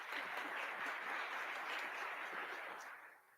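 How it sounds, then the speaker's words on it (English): Church worship service congregation clapping together in a steady, broad wash of applause that holds for about three seconds before tapering off at the end, with no voices over it. "Whenever you see the sign being held up like this, you clap."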